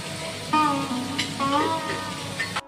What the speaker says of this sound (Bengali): সেগুলো একসাথে দিয়ে নুন হলুদ দিয়ে ভালো করে আবার ভেজে নিতে হবে।